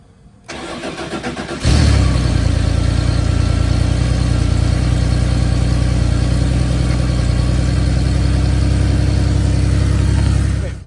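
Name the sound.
Porsche 911 Targa engine idling after starting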